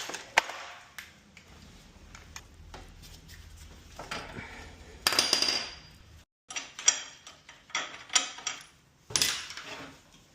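Metallic clinks, ratchet clicks and clattering tools while fan bolts are removed from a 1987 BMW E30 M3 with a V12 swap, irregular and close, with quiet stretches between bursts.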